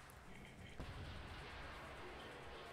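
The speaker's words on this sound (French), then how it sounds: "L'explosion fut telle qu'elle provoqua un trou dans l'espace même" A spaceship blowing up in a video game: a sharp, loud blast hits just under a second in, followed by a sustained rumbling roar that fills the rest of the moment over a steady noisy backdrop.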